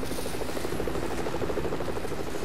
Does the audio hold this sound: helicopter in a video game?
yes